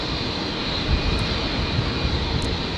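A Boeing 787 Dreamliner jet on its takeoff roll at Brisbane International Airport, a loud steady broadband engine roar held throughout without a break, no voices.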